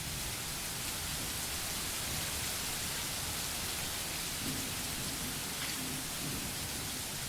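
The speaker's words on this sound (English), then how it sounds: "the rain's coming down like on sheets" Heavy rain pours down in a dense, unbroken hiss, loud and steady throughout, with a faint low rumble that may be distant thunder and no voices.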